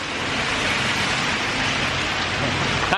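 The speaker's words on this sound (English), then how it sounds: "Okay, the rain is letting up." Steady rain falling in Chiang Mai, Thailand, heard as a dense, even hiss on surfaces that stays constant and fairly loud throughout, with no voices.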